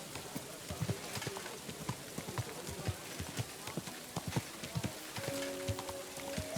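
Horse hooves clip-clopping at a steady walking rhythm in Kingdom Come Deliverance II, crisp repeated thuds over soft ambient noise, with a brief tonal game sound near the end.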